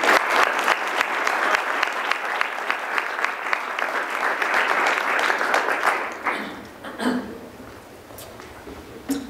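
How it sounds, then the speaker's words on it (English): Audience applause in a debate hall as two speakers are welcomed to the podium, a dense steady roar of clapping that thins and fades toward the end with a few scattered claps. "I ask you to hold your applause, except for now, when we welcome our two speakers to the podium"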